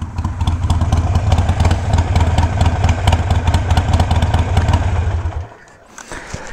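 2021 Harley-Davidson Iron 883 motorcycle engine idling loud and close with a steady low rumble, then shut off at once, leaving quiet with a small clunk.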